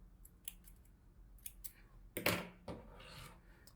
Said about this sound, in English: at this point you're going to just make a chain of 1 and cut your yarn